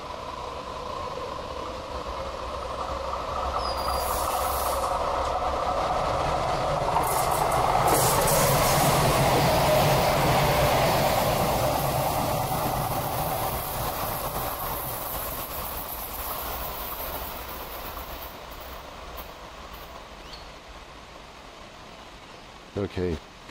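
Light rail train passing northbound near a park, a broad rumble and rush of wheels that swells to a peak midway, then slowly fades, heard from trackside at moderate distance.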